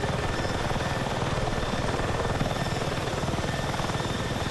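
A helicopter in the Battlefield 6 video game flies with a loud, steady rotor thump and engine whine that holds constant throughout, with no talking.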